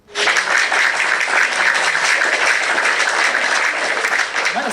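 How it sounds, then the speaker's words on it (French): Steady, loud audience applause fills the room at full intensity from the start, a dense wash of clapping hands that holds evenly throughout. "applaudissons pour elle"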